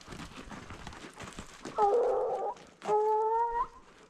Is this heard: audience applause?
no